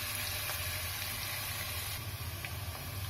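Chopped onions frying in oil for matar paneer, a steady soft sizzle with faint stirring ticks, fairly quiet and unbroken throughout, no talk.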